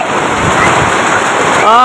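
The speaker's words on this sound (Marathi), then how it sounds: "इकडे असा पाऊस आहे बघा" Heavy rain falling in a sudden downpour, a loud, dense, continuous roar with wind noise, and someone talking over it near the end.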